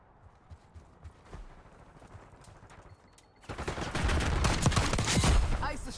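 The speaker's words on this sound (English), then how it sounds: "Enemy sniper shooting." Video game gunfire from an enemy sniper: scattered faint shots at first, then a loud, dense burst of rapid overlapping gunfire that continues to the end.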